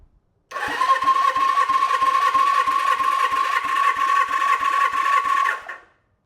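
Suzuki GS750 motorcycle engine cranking on the starter during a compression test on cylinder 4, a whirring starter drone pulsing with about twenty even compression thumps for around five seconds before winding down and stopping.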